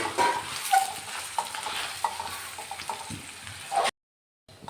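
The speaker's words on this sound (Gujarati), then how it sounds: "આ રીતે હવે આને ઘીમાં શેકી લેશું." Mashed boiled sweet potato is roasted in ghee and stirred, with soft scraping strokes and a light sizzle, up close, before the sound cuts out near the end.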